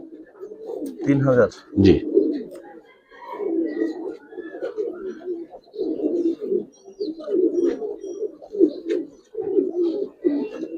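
A flock of Giribaz pigeons coos steadily close by, a continuous low warbling murmur, with a brief exchange of speech near the start.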